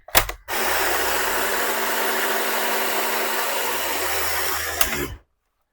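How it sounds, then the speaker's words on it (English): A Dyson vacuum's brush bar motor whirs on abruptly after a short click when the vacuum is tilted, holds a steady high-pitched spinning drone for several seconds, then cuts off. "it's the brush bar motor turning on, which is normal when you tilt your vacuum cleaner"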